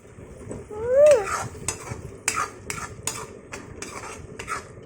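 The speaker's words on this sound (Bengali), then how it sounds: "এটি আমি ততক্ষণ কষাবো যতক্ষণ না টমেটোগুলো ভালোভাবে নরম হয়ে যাবে।" Spoon scraping and clinking against a pan while tomatoes are stirred and sautéed for tomato chutney, a series of sharp metallic taps and scrapes over a faint sizzle, with one short squeak near the start.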